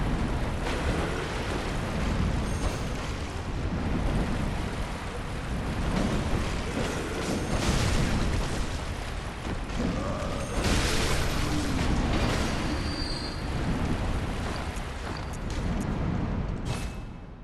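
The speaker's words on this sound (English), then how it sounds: "It's the sound of the wind being cut by the air or the pendulum blade." Pendulum blade trap in the Bloodborne video game swinging overhead, a deep rhythmic whooshing like heavy breathing that rises and falls every couple of seconds over a dense, rumbling ambient bed, steady and fairly loud throughout.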